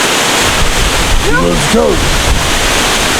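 A waterfall at Jagga Falls rushes as a loud, steady roar that fills the scene, with a voice shouting briefly over it.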